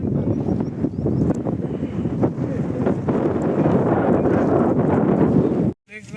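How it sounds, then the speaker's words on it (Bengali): Strong wind blows outdoors past a fence at an evening iftar gathering, a loud, steady rushing roar across the whole stretch that cuts off abruptly near the end. "বাতাস চলছে খুব"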